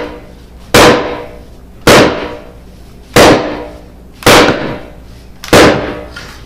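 A Kryptoglow Rebuke blade wedged in a log is struck five times to split the wood; each sharp, loud crack comes at a steady interval of roughly a second, and short ringing decays follow each hit.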